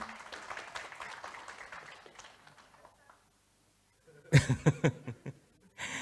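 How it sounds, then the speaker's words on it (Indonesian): A seated audience claps in a formal indoor gathering, a short burst of close, loud applause that starts and stops quickly after a quieter stretch of murmuring talk and near-silence. "Kita berikan aplaus dong."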